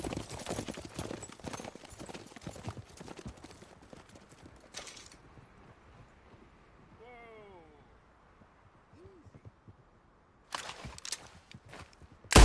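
A horse ridden in Red Dead Redemption 2, its hooves clip-clopping in a quick steady rhythm at first, then fading under wind and a soft whinny, with voices speaking over it.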